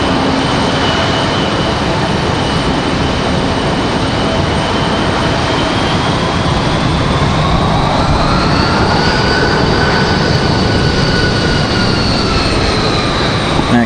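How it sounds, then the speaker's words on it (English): A Boeing 757 jet takes off at Raleigh-Durham International Airport, its engines a loud, continuous roar that holds steady throughout, with the whine shifting in pitch as the jet accelerates down the runway. "our 757 ready for departure"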